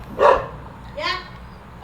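A dog by a roadside fishing pond barks twice, a sharp loud bark and then a weaker one about a second later, close by over low background noise.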